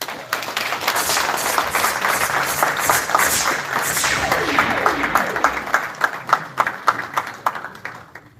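Audience applause at a democracy and peace award ceremony: brisk clapping that swells, holds, then thins into distinct individual claps near the end, with faint voices underneath.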